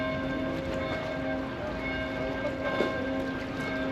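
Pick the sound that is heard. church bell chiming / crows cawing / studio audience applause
church bell chiming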